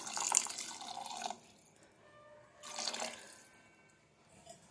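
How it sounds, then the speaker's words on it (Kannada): Water is poured into a pan of cooking cauliflower in a home kitchen, two short splashing pours separated by a quieter pause, faint and close, with a small drip at the end. "ಇನ್ನು ಸ್ವಲ್ಪ ನೀರು ಹಾಕೋಣ"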